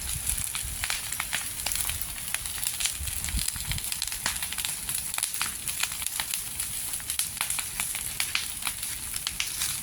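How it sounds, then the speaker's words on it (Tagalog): A steady rush of an outdoor fire burning brush trimmings in wind, with dense crackling and popping, loud and continuous throughout. "Ang taas ng apoy."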